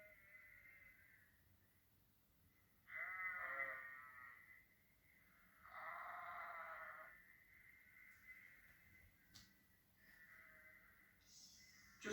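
Sheep on a snowy farm bleating in a few separate, well-spaced calls, each lasting about a second, fairly close against a quiet background with no talk.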